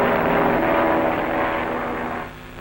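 An airplane drones overhead in a 1940s Western setting, a loud, steady, close engine roar that holds and then drops away near the end, with no talking.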